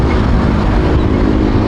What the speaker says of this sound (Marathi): त्याची फायरिंग मस्त येते. सायलेन्सर तसं लावलेलं आहे त्याने.